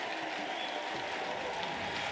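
A high school ice hockey championship crowd in the arena claps and cheers steadily, a dense, continuous wash of applause that fills the space throughout.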